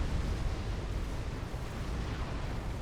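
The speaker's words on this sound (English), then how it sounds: "I will go back to watch the explosion." Nuclear blast in the strategy video game Supreme Commander, a dense, sustained rumbling roar that holds steady for a few seconds with no talking.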